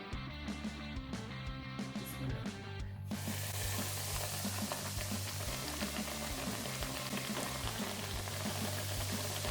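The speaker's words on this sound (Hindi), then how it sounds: "कढ़ाई में ऑयल लें और उसको मीडियम हाई हीट पे गरम कर लें, तकरीबन 160 डिग्री, और मीडियम हाई हीट पे ही हम इसको फ्राई करेंगे।" Chicken for spicy, crispy KFC-style zingers frying in oil heated to about 160 degrees at medium-high in a kadai: a steady loud sizzle under background music that fades after the first few seconds, continuous with crackling bursts.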